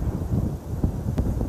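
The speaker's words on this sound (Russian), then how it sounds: "Ветер просто ураганный. Ураганный ветер." Strong gale wind buffets the microphone on a May shoreline during carp fishing, a loud continuous low rumble with gusty surges and a couple of brief knocks.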